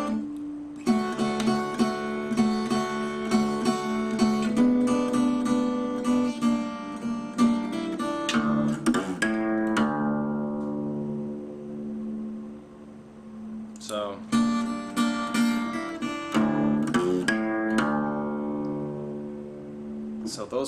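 Acoustic guitar plays a blues song, chords and a four-note bass run together, with repeated strummed and plucked phrases and brief ringing pauses, close and fairly loud.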